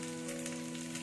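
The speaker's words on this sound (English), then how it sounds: "little bit of onion, little bit of small green chilies. So let this saute." Peanuts, onion and small green chilies sauté in a pan with a soft, steady sizzle over a faint constant hum, quiet and uninterrupted for about a second.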